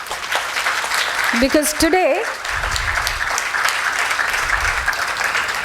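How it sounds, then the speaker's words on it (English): Applause at a school felicitation for teachers and children: a steady wash of crowd clapping throughout, with a short spoken word and a brief voice cutting in partway through. "A bigger round of applause for all of you."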